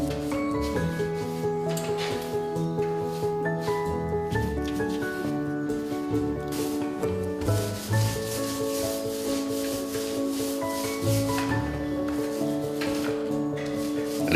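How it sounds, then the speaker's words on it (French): A brush scrubs a lime finish randomly onto a wall, making a continuous rough rubbing and scraping sound that plays under steady background music. "Appliquez-la directement en brossant de manière aléatoire"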